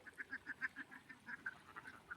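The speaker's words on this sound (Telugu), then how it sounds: "వందల వేల బాతులు తమ వేసవి తాపాన్ని తీర్చుకోవడానికి చెరువుకు చేరాయి" A large flock of hundreds of ducks gathers at a pond in summer heat, giving a continuous run of faint, distant, rhythmic honking quacks.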